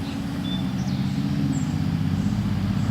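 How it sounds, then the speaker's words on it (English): A car with a faulty muffler about a block away, heard as a steady low rumble far off, with faint bird chirps above. "That guy needs to fix his muffler."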